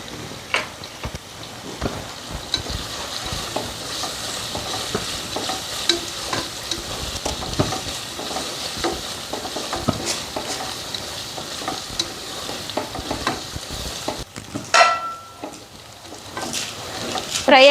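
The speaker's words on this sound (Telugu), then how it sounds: "అల్లం వెల్లిపాయ పేస్ట్ పచ్చి వాసన పోయేంత వరకు ఫ్రై చేసుకుందాము." Ginger-garlic paste fries in hot oil and is stirred steadily in a pan, with continuous close sizzling and repeated scraping strokes for a village-style mutton curry, with no talk.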